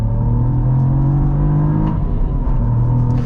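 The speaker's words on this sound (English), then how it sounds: "when you get the exhaust hot, it has these awesome cracks and pops that happen" A 2024 Cadillac CT4-V Blackwing with a manual gearbox, its engine and exhaust droning loud and close in a steady, deep rumble with a slight rise in revs, no voices over it.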